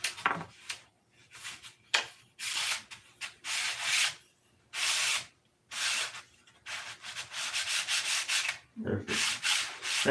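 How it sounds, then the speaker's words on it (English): Sandpaper works along a thin wire axle to clean it, making a series of close, bursty rubbing strokes with short pauses in between, with no voices. "just sand this wire"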